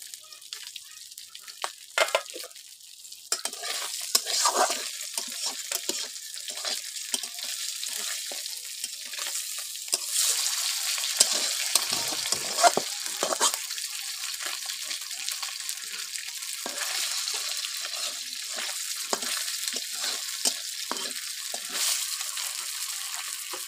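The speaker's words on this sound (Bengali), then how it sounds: "এই দেখুন মাছ ভাজাগুলো হয়ে গিয়েছে।" Glass carp fish fry in a pan in a home kitchen, giving a steady bright sizzle with crackling bursts and stirring scrapes that stay close and fairly loud throughout, with no voice over it.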